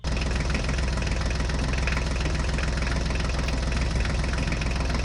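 A toy tractor's engine drones steadily and loudly, a rough knocking idle that continues without a break, with no voices.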